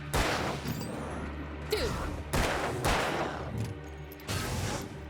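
Rapid bursts of gunfire from the video game Alan Wake crack out in several loud volleys, with an excited voice shouting briefly between them.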